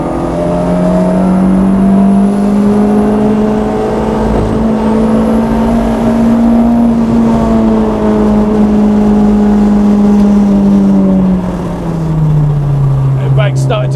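VW Golf Mk3 GTI with a hybrid-turbo 1.8T engine accelerating hard on a track, its loud, steady in-car engine drone rising slowly in pitch as it pulls, with a high turbo whine above and a drop in pitch near the end.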